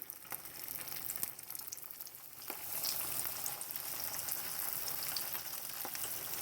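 Steady crackling sizzle of grits frying in hot oil in a pan, continuous and close, with occasional louder pops and spatters.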